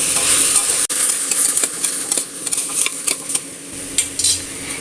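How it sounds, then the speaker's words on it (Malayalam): Potatoes and other ingredients for sambar rice are stirred and sautéed in a pressure cooker, giving a loud, busy sizzle with repeated scraping and metal spoon clinks against the pot and no talk. "ഒരു മിനിറ്റ് ഒന്ന് നമുക്ക് വഴറ്റിയെടുക്കാം"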